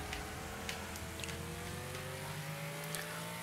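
Racing video game car engines drone and rev steadily, pitches gliding upward as virtual cars accelerate, with occasional brief higher whooshes layered over the continuous mix.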